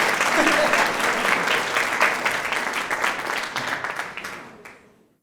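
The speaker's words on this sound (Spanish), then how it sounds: "Les damos un aplauso a mis 3 compañeros" Sustained applause from a congregation at a church service, dense and steady clapping that gradually fades out toward the end.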